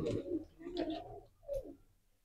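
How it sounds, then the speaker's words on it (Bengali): Young pigeons coo on a pigeon farm in three soft, throaty bursts at close range, alone in a quiet space. "এই দুটো আছে ছানা কবুতর"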